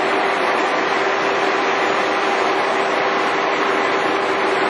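A Giddings & Lewis horizontal boring machine runs its auxiliary top spindle, giving a loud, steady mechanical hum with a constant whine, unbroken and without talk.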